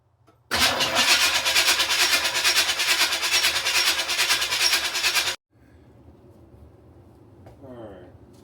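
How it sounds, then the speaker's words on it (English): A 1986 Camaro Z28 with a 350 small-block engine cranks over in a fast, even chugging rhythm for about five seconds without firing. A quieter pause with faint background sounds follows. "It turns over."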